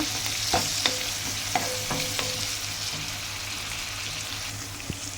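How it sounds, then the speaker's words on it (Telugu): Onions softening in a pan with ivy gourd pieces, a soft steady sizzle with a scatter of light spatula scrapes and taps, moderately close. "మనకి ఆనియన్స్ అనేది ఇంకా ఇలా మగ్గితే చాలండి"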